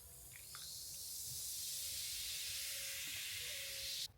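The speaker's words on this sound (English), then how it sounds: "some Summersby to top it off, because we need something fizzy" Fizzy soda poured to top off a cocktail, a steady soft hiss of bubbling carbonation that swells gradually and stays constant, faint and alone.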